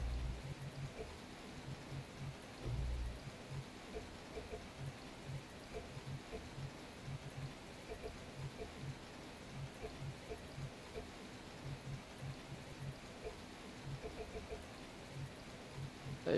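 Steady rain falls on the Spa circuit in the racing game rFactor 2, a soft, constant hiss of raindrops with low rumbling beneath it, continuous and even throughout.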